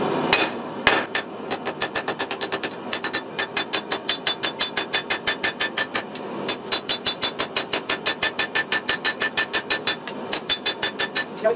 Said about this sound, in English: I'm going to do some general shaping now on the anvil and try and pull the profile out